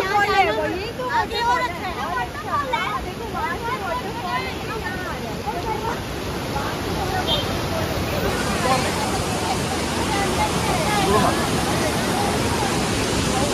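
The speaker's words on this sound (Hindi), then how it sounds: "क्या बोलते हैं ये वाटरफॉल है" A waterfall at Gagangiri Maharaj Math in Khopoli makes a constant broad rushing roar. A person talks over it at first, and then the water noise continues on its own.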